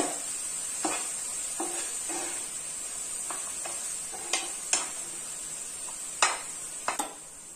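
Fried cashews and almonds stirred in a pan with the stove off, a spoon scraping and clinking in a steady run of soft strokes over a faint hiss, with no talk.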